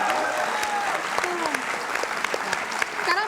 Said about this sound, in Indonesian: kita tepuk tangan dulu buat Amanda